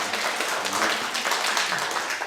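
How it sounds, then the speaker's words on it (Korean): A small church congregation claps to welcome a visiting church's members, a short, dense burst of many hands clapping close by. "우리 박수로 환영하겠습니다."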